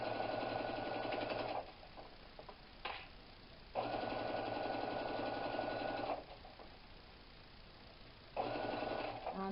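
A sewing machine stitches a seam in a vinyl tote bag with a steady whirring hum, stopping and starting in three runs with brief quiet pauses between them, close and moderately loud.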